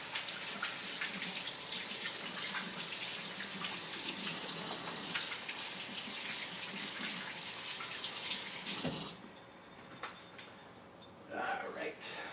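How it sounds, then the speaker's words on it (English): Tap water runs steadily while hands are washed in a kitchen during cooking, a broad hiss that cuts off near the end, with a few faint clatters afterward. "I wash my hands real quick"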